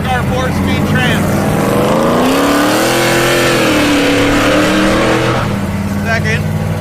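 A car engine revs hard and climbs through gears, the pitch rising and falling as a 3-speed shifter works a 4-speed transmission, loud and close with a voice speaking over the start and end.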